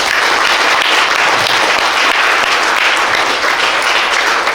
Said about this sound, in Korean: 우리 박수 한번 하시겠습니다